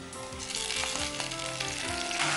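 Tomatoes dropped into a hot, sizzling pan for a fish curry, a steady close crackling fry with faint harmonic background tones throughout.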